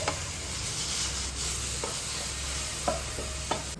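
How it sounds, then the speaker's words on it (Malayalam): Kaipola batter roasts in a pan, giving a constant near sizzle while a spoon stirs and scrapes it, with a few short knocks against the pan. "ഇത് നന്നായിട്ട് റോസ്റ്റ് ആവുന്നുണ്ട്"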